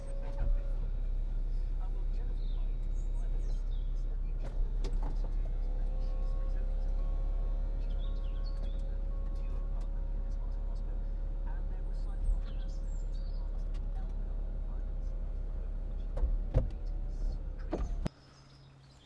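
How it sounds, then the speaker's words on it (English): The electric folding roof of a 2006 Mercedes-Benz SLK280 7G-Tronic roadster runs as a steady, moderate motor whir for about twelve seconds, with light clicks at the start and end and a voice talking nearby. "electrically operated roof, which I'll show you in a second"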